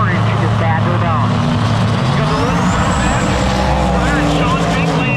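Drag race car on big tires making a pass at Sick Week, a loud continuous engine roar running the whole time under an announcer's commentary.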